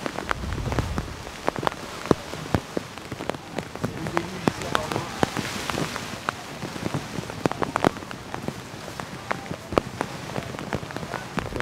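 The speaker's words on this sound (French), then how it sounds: "Là, on se retrouve à 20 degrés sous la pluie." Steady rain pours over an open-air stadium at about 20 degrees during a British Columbia versus Bordeaux match, a dense continuous patter with sharp close drops and splashes throughout.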